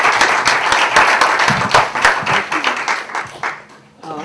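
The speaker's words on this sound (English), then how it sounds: "So everybody give them a great round of applause." Audience applause for newly introduced members at an organizing event, a dense wash of clapping with a few louder individual claps, tapering off near the end.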